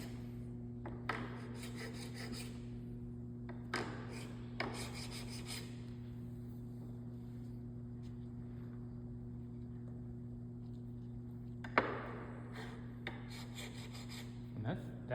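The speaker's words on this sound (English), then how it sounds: "Use an oil stone or a diamond stone because of how sharp this is." A hollow mortising chisel's burr being honed on the fine side of a diamond stone with a little water, heard as soft intermittent rubbing strokes over a steady low hum, with a few sharper scrapes.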